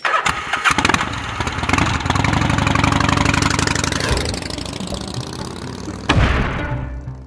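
A motorcycle engine in the game Gabriel Knight 3 cranks, catches and settles into a loud throbbing idle before a final rev and fade.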